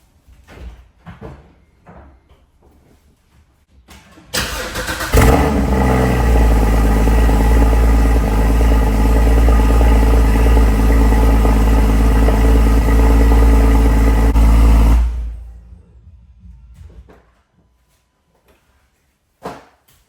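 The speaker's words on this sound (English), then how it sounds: "So let's go start it up." A Porsche engine with its sports exhaust valves held open cranks and fires into a loud, raspy cold-start idle that holds steadily for about ten seconds, then shuts off, leaving faint clicks.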